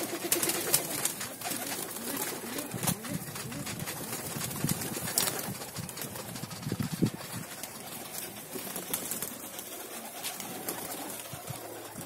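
Pigeons coo softly and steadily close by while eating grain from a feeding tray, with light pecking and fluttering noises over a constant outdoor background.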